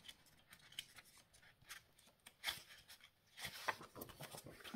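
Scissors snip through decorative scrapbooking paper at close range, a series of quiet, irregular crisp cuts and rustles with no talking.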